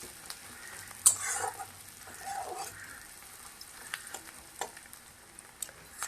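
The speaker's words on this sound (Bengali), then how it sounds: "পেঁয়াজটা দিয়ে একটু ভালো করে নাড়াচাড়া করে নেব।" Onion being stirred and fried in a pan for a doi katla fish curry: a quiet sizzle with scattered sharp spatula taps and scrapes, one louder clatter early on; no talking.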